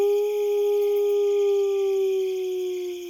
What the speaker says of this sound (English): everyone else heard it in the distance, the howling of a wolf.